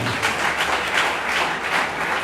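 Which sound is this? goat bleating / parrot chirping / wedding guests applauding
wedding guests applauding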